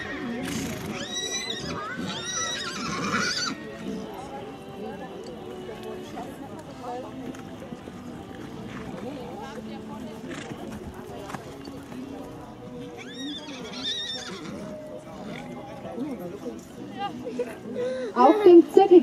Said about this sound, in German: Abteilung im Arbeitstempo Galopp.